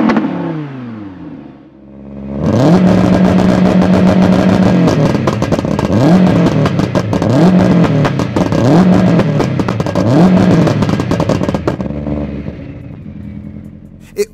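Two high-performance cars, a 700HP Subaru Impreza WRX STI and a 610HP Audi R8, rev their engines loudly and close up, with repeated rising throttle blips over a steady rumbling idle, then the noise settles and fades.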